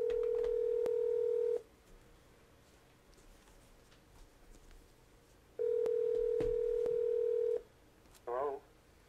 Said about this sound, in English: we're going to just dial him on this phone